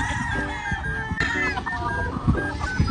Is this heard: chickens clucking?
yes